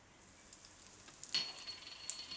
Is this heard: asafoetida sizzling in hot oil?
yes